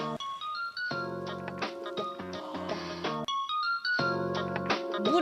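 A mobile phone ringtone plays a bright, looping electronic melody of stepped notes in a loud, close repeating pattern, with a brief break midway.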